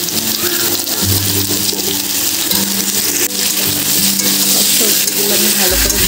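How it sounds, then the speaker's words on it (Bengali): Pumpkin and potato pieces frying in oil in a pan, a bright continuous sizzle with occasional stirring scrapes and a low background hum, close and fairly loud. "সবজিগুলো আমি ভালো করে ভেজে নেব।"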